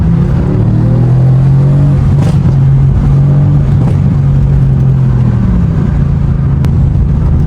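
A 500 hp Mercedes-AMG car engine revs loudly from inside the cabin during a night drive, the note dropping and blipping through repeated downshifts with a deep, steady rumble underneath.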